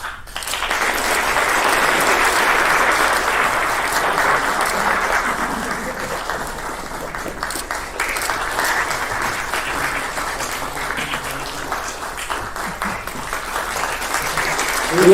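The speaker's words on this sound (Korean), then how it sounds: "감사의 박수를 다시 한번 부탁드립니다" Sustained applause from the audience fills a hall at a hospital director inauguration ceremony at the Catholic University of Korea Bucheon St. Mary's Hospital, loud and steady for about fifteen seconds before easing slightly toward the end.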